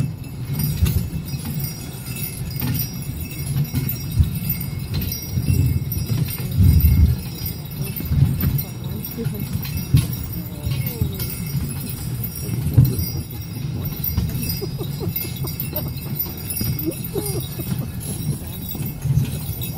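Muffled, steady clip-clop of sleigh horses' hooves moving along at a trot, with faint jingling and rustling in the background.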